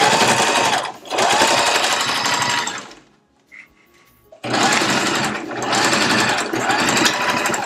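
A sewing machine stitches fabric for a face mask in two loud, fast, buzzing runs close by, separated by a brief pause with a small click.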